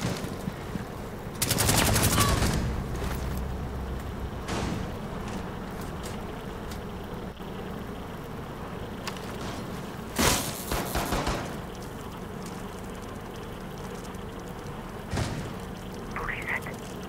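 Gunfire in Rainbow Six Siege, with a loud burst near the start, another around the middle and a sharp shot late, set over steady game ambience, footsteps and occasional thuds.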